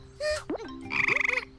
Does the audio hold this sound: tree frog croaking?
yes